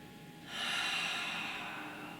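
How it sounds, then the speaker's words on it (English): Deep breathing during a standing quad stretch for runners: one long, close, airy exhale or inhale that swells after a quiet start and holds steadily. "So deep breaths"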